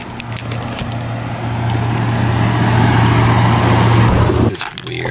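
A Ford Mustang rumbles along with a steady, loud low drone from inside the cabin, holding even for several seconds before cutting off abruptly near the end.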